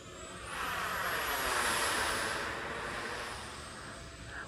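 An RC Batwing model airplane glides past off throttle with no fan running, giving a steady airy whoosh that swells and fades over a few seconds.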